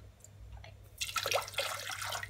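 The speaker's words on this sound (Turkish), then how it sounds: "Ve şimdi hemen 3 su bardağı suyumuzu döküyorum." Water pours steadily from a cup over sugar for syrup, starting after a quiet second, a close, continuous splashing rush.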